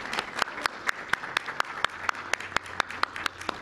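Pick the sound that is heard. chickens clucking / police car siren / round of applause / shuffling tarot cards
round of applause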